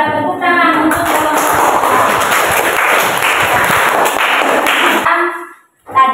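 Applause from a class of students, a dense burst of many hands clapping close by for about five seconds, then fading abruptly into quiet before a short bump.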